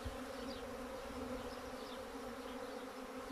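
Honeybees buzzing in front of the hive as young bees make their orientation flight, a steady droning hum of many wings with a few closer bees passing by, fairly quiet and with no voices.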